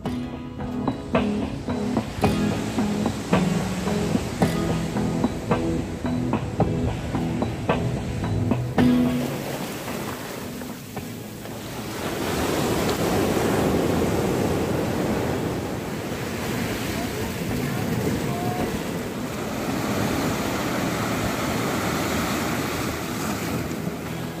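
Sea waves wash up on the empty Shankarpur beach at Digha, a broad, continuous rush of surf heavily buffeted by wind noise, with a rhythmic clatter over the opening seconds.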